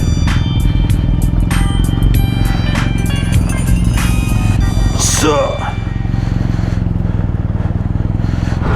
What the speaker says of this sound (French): faire un demi-tour avec la X-Diavel